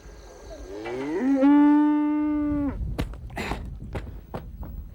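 A dairy cow on a farm lets out one long, loud moo, followed by nearby thuds and knocks of movement.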